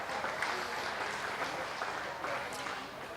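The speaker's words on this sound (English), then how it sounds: "Let's give these Guernsey exhibitors a nice round of applause." Applause for Guernsey dairy heifer exhibitors at an open-class show, steady clapping from a crowd at moderate distance that runs through the whole stretch without a break.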